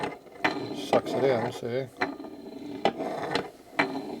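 Crank of a 1946 Harley-Davidson knucklehead stroker engine turned backwards by hand to prime the oil pump, giving repeated mechanical clicks and ratcheting knocks at an uneven rhythm, close up, with someone speaking briefly over it.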